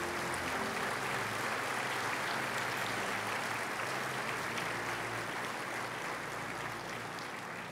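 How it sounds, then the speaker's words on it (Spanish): Church congregation applauding during a Sunday service, a broad, even wash of clapping from many hands that fills the room and holds steady for several seconds. "Denle un aplauso fuerte al Señor."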